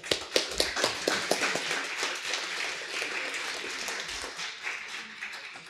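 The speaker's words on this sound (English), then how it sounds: "Big applause again for them." A conference audience applauds after a technical talk, starting with a few distinct loud claps that blend into a steady wash of clapping, fading slightly toward the end.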